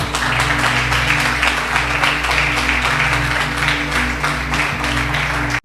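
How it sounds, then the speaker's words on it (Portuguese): A church congregation claps steadily and enthusiastically throughout, with a low sustained musical drone underneath the applause. "minhas palmas bem alegres para Jesus"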